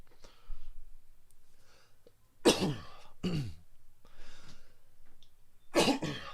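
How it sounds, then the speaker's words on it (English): Three harsh, close coughs spaced a few seconds apart, with quiet breathing and small clicks in between. "I'd give anything to stop coughing."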